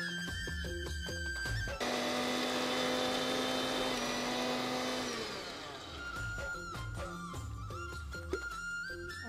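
A kitchen mixer grinder whirs loudly, pulverising coconut, coriander, cumin, chana dal, sesame and dry red chillies into powder; the motor runs steadily, then drops in pitch and winds down before the jar rattles with handling noises.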